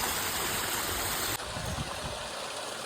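Water pours down steadily at Gautam Kund in Trimbakeshwar, the source of the Godavari, a loud, continuous rushing with a slight shift in tone partway through.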